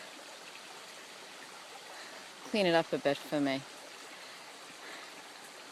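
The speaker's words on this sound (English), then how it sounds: "I discovered the running water here. I wonder if you can hear it." A brook trickles faintly and continuously through a field, a soft background burble while someone briefly speaks over it midway.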